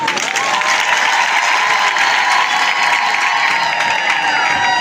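A large crowd at a public gathering in Minembwe bursts into sustained, dense applause, loud and continuous throughout with faint cheering mixed in.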